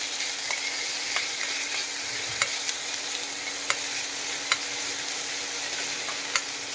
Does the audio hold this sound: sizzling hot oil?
yes